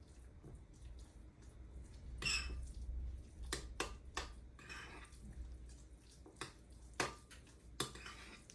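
A utensil clinks and scrapes in a pot while oil melts, producing scattered sharp metallic taps and soft swishes, quiet and irregular, with no talking.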